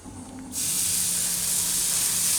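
Moong uttapam batter hitting a hot nonstick pan sets off a loud, steady sizzle that jumps in abruptly and holds, with a faint hum beneath.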